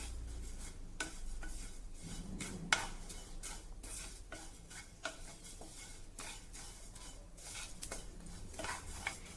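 Desiccated coconut and white sesame seeds dry-roasting in a pan, with soft scraping and stirring strokes at an uneven rhythm and occasional light clinks of a utensil, close and quiet, no talking.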